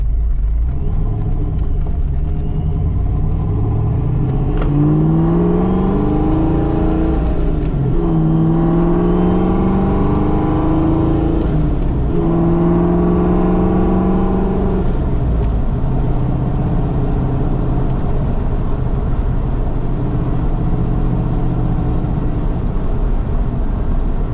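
A Retro Fox car fitted with a Vortech supercharger at 11 psi pulls hard toward redline, its engine note and supercharger whine climbing steadily in pitch through several gear changes, loud and close, then easing off.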